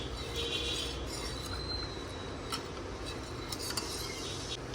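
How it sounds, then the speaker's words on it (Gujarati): Flour batter with milk being stirred in a bowl, a steady soft scraping and swishing with occasional light clinks of a utensil against the bowl, close and continuous with no talking. "એની અંદર દૂધ એડ કરી દીધું છે અને એને પ્રોપર રીતે હું મિક્સ કરીશ."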